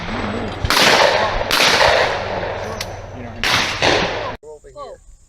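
Several loud, sharp gunshots ring out at an outdoor shooting event, in a few separated bursts with a lingering crackle between them, and a short stretch of voices talking follows at the end.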